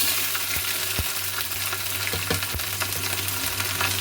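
Steady sizzling of ginger paste frying in hot oil with chillies, with a few soft clinks and stirring scrapes scattered throughout.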